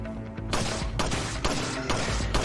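Four sharp handgun shots ring out in Resident Evil 4 Separate Ways, spaced roughly half a second apart, each loud and near with a short ringing tail.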